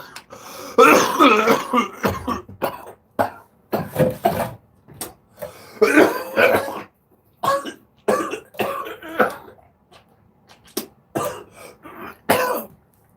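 Repeated bursts of coughing and throat clearing, close and fairly loud, spread in irregular fits with short pauses between them.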